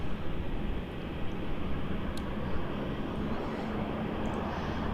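Aircraft at Melbourne Airport, registration OFQ, bound for Sydney, a constant low broadband engine rumble at moderate distance that stays steady throughout, with no talk.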